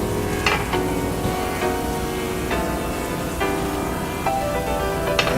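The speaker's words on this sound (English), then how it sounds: "We're going to let that bubble down, caramelize a little bit" Balsamic and brown sugar glaze bubbling over bacon-wrapped radicchio in a pan, a dense, continuous sizzle close up with occasional brighter pops and crackles, no voices.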